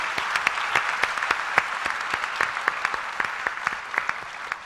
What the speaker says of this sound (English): let's have a very big round of applause for the panelists